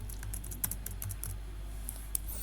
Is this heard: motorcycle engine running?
no